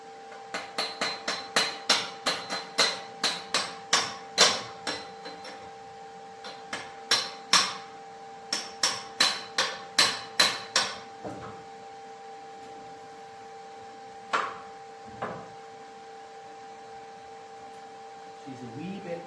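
A hammer taps a U-joint into a driveshaft yoke in a series of sharp metallic raps, first in a quick run and then in steadier groups, before fading to a few isolated knocks.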